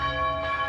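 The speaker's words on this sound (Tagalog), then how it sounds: "Ang kampana ang ingay." A church bell rings steadily outdoors among wildflowers, its bright sustained tones and overtones continuous and fairly loud throughout the short moment, with no talking.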